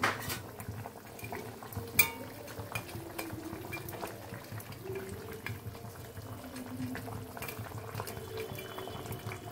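Water at a boil in a cooking pot, ready for fish to go in, gives a steady bubbling simmer close by, with light clinks of metal utensils and a sharp knock near the start.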